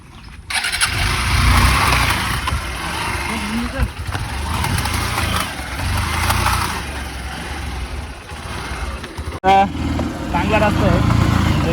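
A car engine strains and revs while the vehicle is stuck on a rough off-road track near Bhasta dam, a loud, sustained drone that rises and falls under people talking, with a brief drop near the end.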